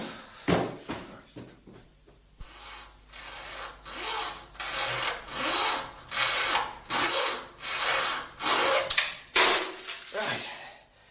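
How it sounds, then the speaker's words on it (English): A junior hacksaw cuts in a steady series of rasping back-and-forth strokes, about a dozen even pulls close by, with speech around it. "Slip down to Dale Street and get me a junior hacksaw"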